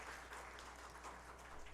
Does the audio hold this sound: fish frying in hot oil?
no